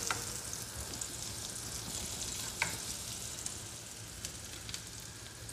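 Garlic frying in oil, with a dense, steady sizzle and a few sharp pops of splatter, fairly faint and close.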